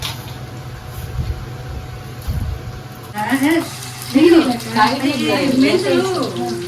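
Fenugreek seeds hit hot oil for a Nellore-style fish curry with a steady, moderate sizzle and hiss. After a few seconds, talking starts over the frying.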